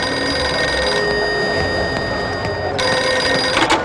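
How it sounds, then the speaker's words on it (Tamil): A public telephone on a railway station platform rings steadily in a continuous electronic trill, fairly loud, with a brief break before ringing resumes, over a background hum. "பிளாட்ஃபார்ம் நம்பர் ஒன்ல இருக்க பப்ளிக் ஃபோன் ரிங் ஆகும்"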